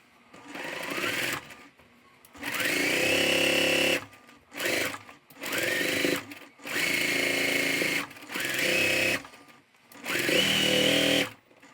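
A sewing machine stitches a pieced Album Star quilt block in about five steady, buzzing runs, each lasting one to two seconds with short quiet pauses between them, close and clear with no talking.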